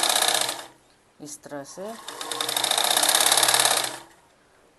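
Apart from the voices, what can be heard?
sewing machine stitching kurti neck strip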